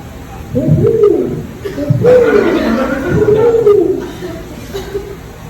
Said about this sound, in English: the hoot of an owl